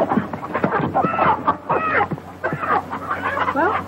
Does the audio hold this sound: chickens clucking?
yes